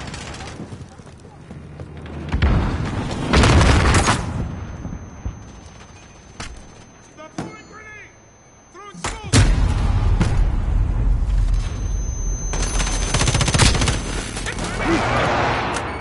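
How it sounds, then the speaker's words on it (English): A precision airstrike in the video game Modern Warfare sets off a heavy series of loud booming explosions and rumbling blasts, followed by a quieter lull and then a second burst of roaring impacts. "Enemy precision airstrike!"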